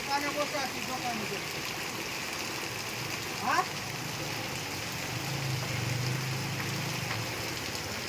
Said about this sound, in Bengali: হাহাকার করে জোরে জোরে বৃষ্টি হচ্ছে একদম